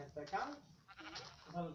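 Sheep in the video game Minecraft bleat in a few short, quiet, wavering calls close together, mixed with speech.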